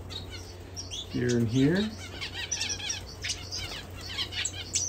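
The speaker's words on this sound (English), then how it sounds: "And then we've got some canary fledglings." Canary fledglings chirping indoors, a brief cluster of squawky calls followed by scattered thin high tweets, with a voice speaking briefly over them.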